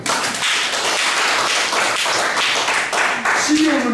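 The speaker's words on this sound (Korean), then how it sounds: "박수" A lecture audience at a leadership seminar claps in a brief, dense burst of applause, many hands slapping together up close, steady for a few seconds.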